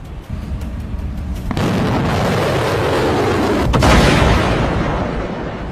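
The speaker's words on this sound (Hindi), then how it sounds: "धमाके दर धमाके, मिसाइलों के, रॉकेट के" Missile and rocket explosions in a military strike: a continuous roaring barrage of blasts, loud and close, with a sharp crack partway through and another heavy burst near the end, no voices.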